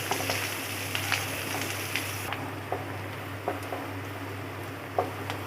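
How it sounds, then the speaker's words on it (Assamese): Chopped onions fry in hot oil in a pan with a steady, gentle sizzle, punctuated by a few light taps and crackles from stirring. "পিঁয়াজখিনি দি দিম আৰু পিঁয়াজখিনি ভালকৈ ভাজি ল'ম"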